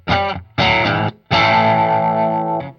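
Ibanez Prestige AZ2200 electric guitar on its bridge single-coil pickup, three distorted strummed chords, the last ringing out for over a second, loud and close with no talk.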